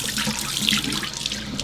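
Water runs steadily from a sink faucet as a wig is rinsed in fabric-softener water, a constant close splashing rush with no pauses.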